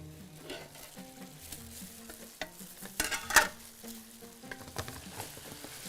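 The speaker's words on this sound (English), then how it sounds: "stir it again." Vegetables including half-moon slices of eggplant being stirred in a hot pot, a steady sizzle of frying with scraping spoon strokes and a few louder knocks against the pot, close and alone.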